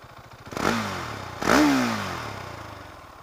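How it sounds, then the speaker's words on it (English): Motorcycle engine, an R model fitted as standard with an Akrapovic exhaust, revving in two sharp blips that rise and fall in pitch, fairly close and loud with no talk. "The R model comes standard with the Akropovic exhaust, so it sounds pretty nice as well."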